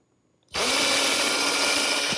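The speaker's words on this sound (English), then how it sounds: "I'm going to drill down at an angle." After a moment of quiet, a power drill suddenly whirs up and runs at a steady, loud pitch, driving screws at an angle into a wooden garden gate.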